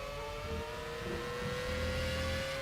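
A Formula race car in the rFactor racing video game at the Malaysian Grand Prix, its engine droning at steady high revs with a whining tone, loud and continuous with no voices.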